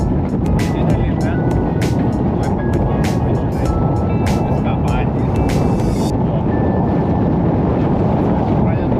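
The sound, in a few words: strong wind while fishing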